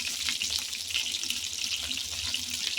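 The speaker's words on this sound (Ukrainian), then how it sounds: "смажу м'ясо." Steady, dense sizzling of meat frying in a hot pan, a constant crackling hiss with no pauses.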